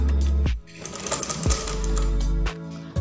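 A Butterfly sewing machine runs in short bursts, its rapid rhythmic stitching clatter starting and stopping a few times, close and fairly loud.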